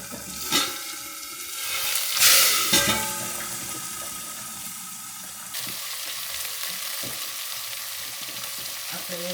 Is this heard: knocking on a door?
no